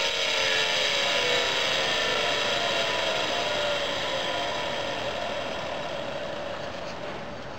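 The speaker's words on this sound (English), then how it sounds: "now the motor will rotate in a clockwise direction" A series-wound electric motor runs clockwise off a battery, a loud high whine that holds steady and then slowly winds down in pitch and volume, with no talking.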